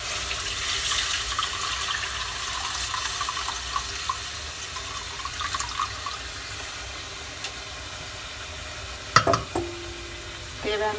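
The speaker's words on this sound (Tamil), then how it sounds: "புளி கரைச்சி வச்ச தண்ணியை இதில் ஊற்றுறோம்." Tamarind water is poured into a hot pan of sautéed spices for pepper rasam, making a continuous hissing, sizzling wash with scattered small clicks and a sharper knock near the end.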